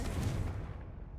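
A booming blast from the Confringo spell in the Hogwarts Legacy video game, a single dense burst that rolls off and fades within about a second, with no talk.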